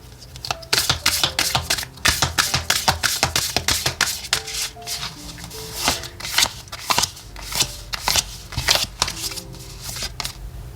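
Oracle cards are shuffled close up, giving a rapid, crisp flutter of riffles and slaps in uneven bursts, with no talk over it.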